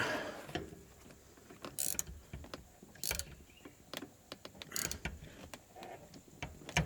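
An adjustable spanner tightens the rear shock absorber top nut on a BMW E87. Faint metallic clicks and ratcheting clanks come in irregular bursts, some sharper knocks stand out, and no voice is heard.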